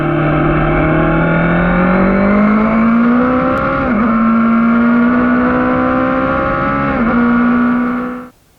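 A 2020 Suzuki GSX-S750 motorcycle engine drones loudly and steadily with a raspy growl, pitch climbing slightly then holding, with two brief dips as the revs blip, then it cuts off.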